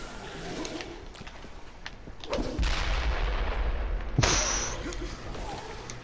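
Explosions go off in the video game Dead Island. Two heavy booming blasts land a couple of seconds apart, and the first leaves a long rumbling tail.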